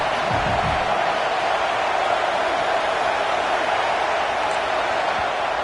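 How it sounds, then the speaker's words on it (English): Loud, steady roar of a large stadium crowd at a Michigan vs Nebraska game in College Football 26, a constant wash of cheering noise with no breaks. "This crowd bringing the energy and noise early."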